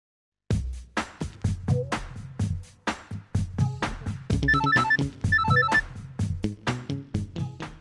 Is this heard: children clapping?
no